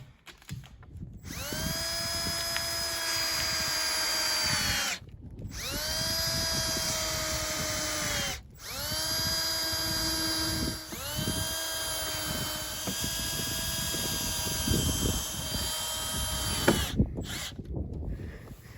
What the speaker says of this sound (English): I put screws in right here to hold the hinge